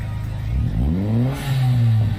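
A turbocharged Perodua Axia with a fully custom 2-inch exhaust revs up close by, its engine note climbing and easing before a loud, raspy sustained rev.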